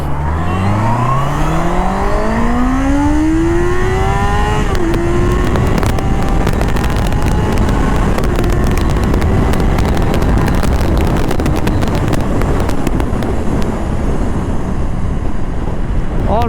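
A Honda CBR 650R motorcycle is being ridden. Its engine note climbs steadily as it accelerates, then drops into a sustained drone under heavy, constant wind buffeting on the microphone.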